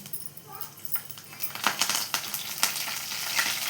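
Dried red chillies, cumin, mustard seeds and curry leaves frying in hot oil, giving a steady close sizzle with scattered crackles and small pops as the seeds burst, no talk over it.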